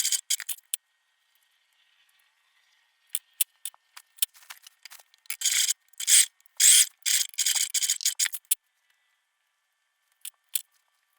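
Scissors snipping off tied thread on a sewing dart, a scattered run of crisp short clipping and rubbing sounds, close and fairly quiet, with near silence between bursts.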